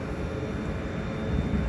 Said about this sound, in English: Now departing is the 1408 Northern service from Manchester Airport to Blackpool North.